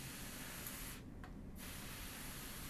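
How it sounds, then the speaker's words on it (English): Steady hiss of a hand sprayer misting water onto houseplant leaves, faint and continuous, with a short half-second gap before the spray resumes. "And so now I'm like just spraying it, just a lot."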